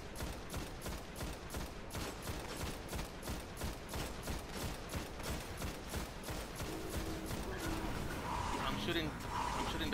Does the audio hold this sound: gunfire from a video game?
yes